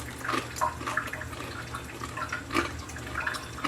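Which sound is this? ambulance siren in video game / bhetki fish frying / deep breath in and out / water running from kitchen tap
water running from kitchen tap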